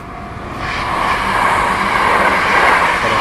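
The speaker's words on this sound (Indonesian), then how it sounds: "Kereta lewat." A train rolls past at night on a street in Japan, a loud steady rumble and rushing noise that swells slightly as it passes close by.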